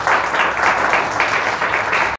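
Congregation clapping during a Sunday church worship service, a dense, energetic burst of applause with a rhythmic pulse that cuts off abruptly at the end.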